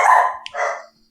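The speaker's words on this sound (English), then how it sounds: "just the dog's barking" A dog barks twice in quick succession, close and loud, two harsh bursts separated by a short gap, with no talking over it.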